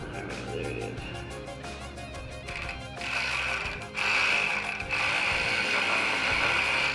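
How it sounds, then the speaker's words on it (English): A cordless ratchet tightens hose clamps on a 2001 Chevy Venture 3.4 engine during intake reassembly. Close, clicking mechanical ratcheting runs in repeated bursts and grows louder in the second half, with no talking. "It's tricky using a cordless ratchet."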